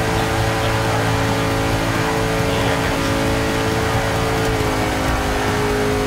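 A NASCAR race car in the Forza 6 racing game holds a loud, continuous engine drone with steady revving and no talk.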